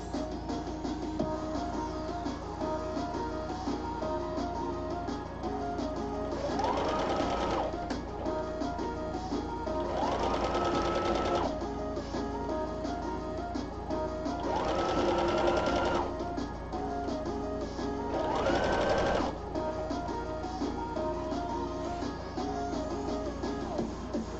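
A sewing machine stitching a ruffle for a dress runs in four distinct bursts of rapid mechanical whirring, loud and close over a constant background hum.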